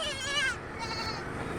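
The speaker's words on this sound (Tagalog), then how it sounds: "Hello, kambing." A goat at a rural Philippine farm bleats once, a loud, close, wavering cry that trails off into quiet outdoor ambience.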